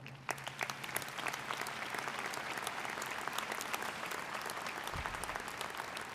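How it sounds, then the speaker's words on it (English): Sustained applause from a large crowd at a graduation commencement ceremony, steady and enthusiastic throughout, with no talking over it. "Let us give our family and friends a great big round of applause"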